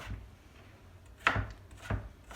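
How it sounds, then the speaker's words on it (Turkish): Knife chopping tomatoes into cubes on a board, a few distinct soft thuds spaced apart, close and quiet with no talking. "Küp şeklinde doğruyoruz"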